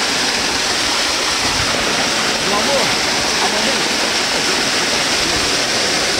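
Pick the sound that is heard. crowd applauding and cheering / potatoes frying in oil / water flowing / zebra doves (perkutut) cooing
water flowing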